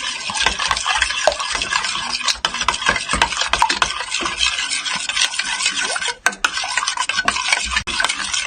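A spoon stirs an egg into soaked rice flour batter in a bowl for chitoi pitha, a loud, continuous scraping and sloshing with brisk repeated strokes and brief pauses.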